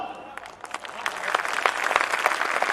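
A live audience at a Hindi comedy poetry show breaks into applause, the clapping thin at first and then building into a steady, fairly loud patter of many hands.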